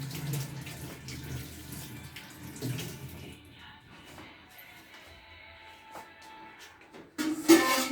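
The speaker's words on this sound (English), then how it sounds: "let me wash my hands first" Hands being washed under a running kitchen tap, a soft steady stream of water with shifting splashes as the hands move beneath it, close by, ending in a louder burst of gushing water.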